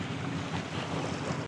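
Ferry wake swell washing against a small boat at sea, a steady broad rush of water and waves with wind buffeting the microphone, close and continuous with no talk.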